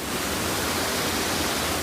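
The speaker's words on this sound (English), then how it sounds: "the water is proper surging through" Stormwater surges out of a drainage pipe into Holmer Lake, a loud, constant rushing roar like a waterfall, with no voices.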